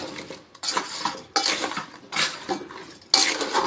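A spoon stirs thick jujube pickle in a metal pan, scraping and clinking in four separate bursts with short pauses between them, close and fairly quiet, with no voices.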